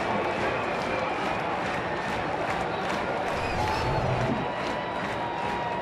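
Large stadium crowd at a San Francisco Giants at Colorado Rockies baseball game cheering loudly and steadily after a pitch, a dense sustained roar with scattered shouts and clapping.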